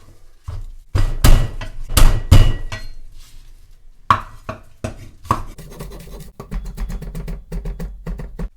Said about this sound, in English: just chop it up